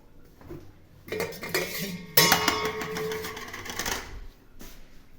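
Metal pots and pans clatter and clank as they are shifted and rummaged through, a busy burst of scraping and knocking close by.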